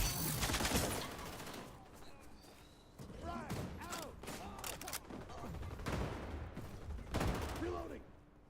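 M4 rifle fire in the shooter XDefiant, repeated automatic bursts at moderate distance, with in-game chatter and whooshing effects layered between the volleys.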